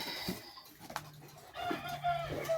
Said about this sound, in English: We got a chicken right here wondering why I haven't fed her yet.